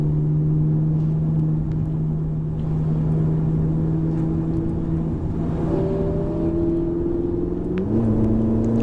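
An exotic sports car engine hums steadily at cruising speed, then its pitch climbs as it accelerates near the end, with a continuous road rumble underneath.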